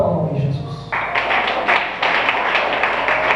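A church congregation at an afternoon Portuguese-language service breaks into steady, rhythmic clapping after about a second, the dense claps filling the room and continuing strongly with some voices mixed in.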